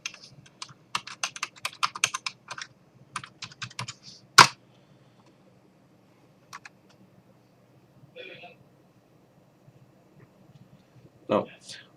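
Password typed on a computer keyboard, a fast burst of close, crisp key clicks followed by a sharp Enter press, then sparse taps and a final clack against a quiet background.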